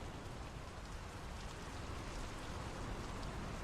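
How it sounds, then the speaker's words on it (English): Steady, dense rain falls in a video game, a constant close hiss of drops on surfaces with no pauses or voices. "The rain's picking up."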